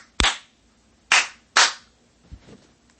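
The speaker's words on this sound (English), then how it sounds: "Okay, do more clapping" Hand clapping, three sharp, loud claps spaced unevenly, followed by a softer fourth, close by with no talking.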